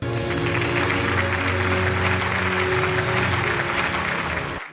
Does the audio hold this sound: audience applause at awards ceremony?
yes